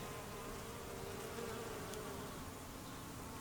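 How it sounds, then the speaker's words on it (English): Bees buzzing around flowering pineapple sage in a home garden in November, a faint steady hum of many insects close by, with no voices. "do you hear the buzz of the bees?"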